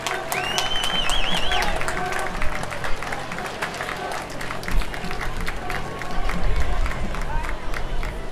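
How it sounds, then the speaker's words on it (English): Spectators applaud along the route of a fall festival parade in Woodbury, a steady outdoor patter of clapping with scattered cheers and crowd chatter, while a voice speaks over a loudspeaker. "Let's give them a round of applause."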